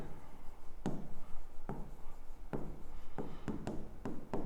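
Marker or chalk strokes on a board come in short scratchy bursts with pauses between words, close and fairly quiet, and no talking over them.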